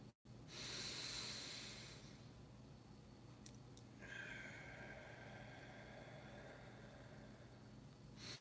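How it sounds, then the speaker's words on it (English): Slow, steady breathing from people during a guided meditation, long soft airy inhales and exhales over a low steady hum, calm and fairly quiet with no words spoken. "Let's just breathe together now."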